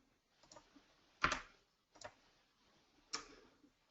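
A few sparse keystrokes on a computer keyboard, quiet, close clicks spaced irregularly about a second apart, the loudest near the middle.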